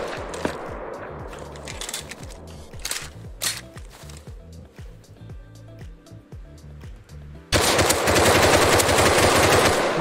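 Automatic gunfire in the survival game Rust, rapid bursts of shots layered through the clip, with a louder, denser burst of fire near the end.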